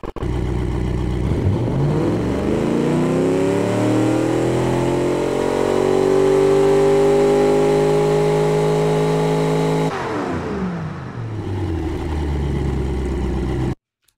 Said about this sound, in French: Je confirme que c'est un V8.